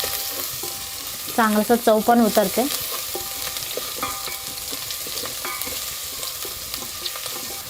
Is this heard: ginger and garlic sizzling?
yes